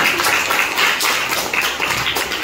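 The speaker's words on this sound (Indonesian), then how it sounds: "kita beri aplaus dulu untuk ketua sholat" Students in a classroom clap for the class prayer leader, a dense, steady patter of many hands close by with no break.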